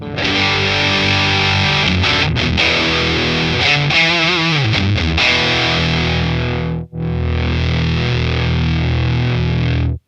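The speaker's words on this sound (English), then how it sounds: "All the way up, and we're at max sort of distortion and fuzziness there." An electric guitar through a Fender Hammertone Distortion pedal at maximum gain rings out with heavy fuzz, thick and saturated, sustaining loudly with a brief cut before the buzzing chord resumes.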